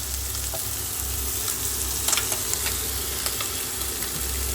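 Cauliflower sizzles and crackles in hot oil in a pan, a continuous close frying hiss with small pops and stirring clinks, beneath a low engine-like hum.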